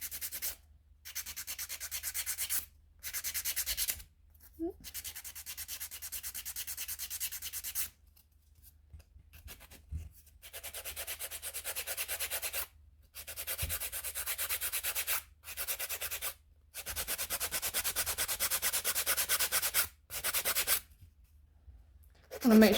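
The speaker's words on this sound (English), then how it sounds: "Okay, so this one's dry, so we're just gonna start the filing on this one." An acrylic nail being filed into a lipstick shape, close and soft, in repeated rasping strokes of a few seconds each separated by short pauses.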